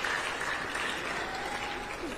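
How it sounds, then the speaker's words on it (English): Conference audience applauding steadily throughout, a dense, sustained wash of clapping from a crowd at an ICT conference in Dar es Salaam, close and even in loudness with no pauses. "And another round of applause for our moderator"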